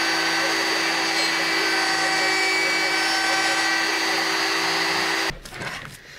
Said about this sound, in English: I am now drilling some holes into the acrylic